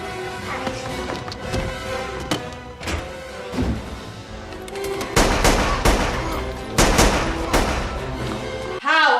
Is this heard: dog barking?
no